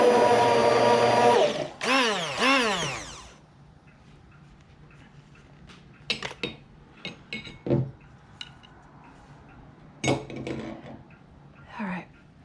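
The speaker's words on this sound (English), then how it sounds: "I'm going to put my blender in" A kitchen blender purees herbs in vinegar, first a short loud motor whir and then a longer whine that rises and falls before cutting off. Afterward come a few quiet clinks and knocks.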